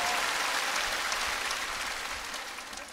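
Applause rises at an outdoor broadcast singing contest by the Han River in Seoul as a composer is welcomed, the dense clapping starting strong and slowly fading.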